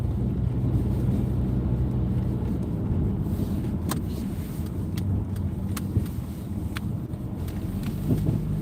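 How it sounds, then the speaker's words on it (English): Road traffic rumbles through snowy New York City streets, a loud, steady broadband roar of passing vehicles with buffeting wind, and a few sharp clicks scattered throughout. "That's a lot of traffic"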